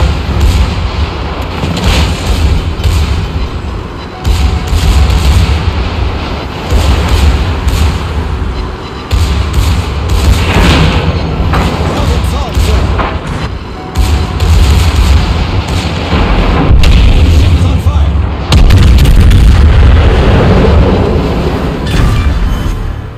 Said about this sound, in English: that's a good enough angle to get all four turrets firing together